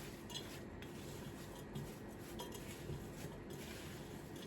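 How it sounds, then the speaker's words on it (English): A spoon stirs a granola flapjack mixture in a bowl, giving a soft, continuous scraping and clinking that stays steady and close throughout, with no talking. "let's give that a stir and see how it combines."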